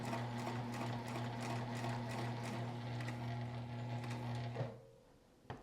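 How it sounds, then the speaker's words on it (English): A sewing machine stitches a fabric seam at a quarter-inch allowance, giving a steady close mechanical whir for several seconds before it stops abruptly. "going to be sewing at 1/4 inch seam allowance"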